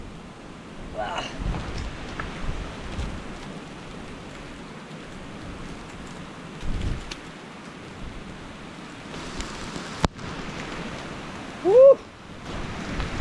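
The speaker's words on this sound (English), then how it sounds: "Ah, here goes the rain." Heavy typhoon rain falls in the rural Philippines, a steady broadband hiss filling the whole clip, with brief exclamations from a person nearby.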